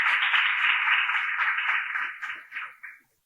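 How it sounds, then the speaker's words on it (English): Steady audience applause from a crowd at a Future Earth university panel summit on sustainable living, dense and sustained clapping for about two and a half seconds before tapering off in a few last claps. "Please give a big round of applause."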